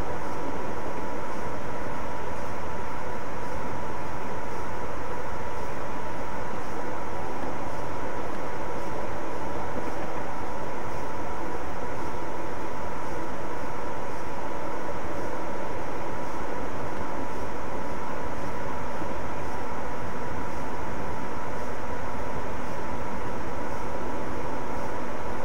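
Train Simulator 2014 locomotive running on the West Coast Main Line over Shap, a steady unbroken rumble with a faint high hum, continuous and even throughout with no talk.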